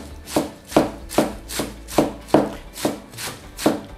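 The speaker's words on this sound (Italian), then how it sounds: "adesso lo andiamo a tritare a coltello" A knife chopping fresh wild garlic on a cutting board: nine or so crisp, evenly spaced strokes in a steady rhythm, close and clear with no talk.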